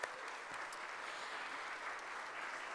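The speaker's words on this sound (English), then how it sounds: "So let's give a round of applause to everyone in this room for everything that you do." An indoor crowd at a Philadelphia press conference claps steadily in a soft, even wash that carries through the whole moment.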